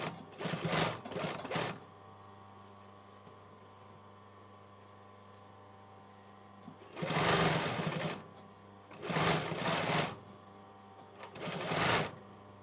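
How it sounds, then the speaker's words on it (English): Sewing machine edge stitching a two-fabric hoodie, running in four short whirring bursts with quiet gaps between, close and clear with faint background hum. "Now I'm just edge stitching it"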